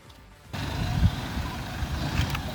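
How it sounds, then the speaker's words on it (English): An Isuzu X-Rider 1.9 TD bakkie's diesel engine picks up after a quiet half second into a steady, broadband running drone, as heard from on board during a short drive. "hear the sound of the vehicle"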